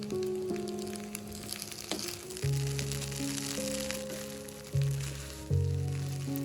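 Chicken hakka noodles with egg are stir-fried in a pan, giving a soft, continuous sizzle under background music, with no talking.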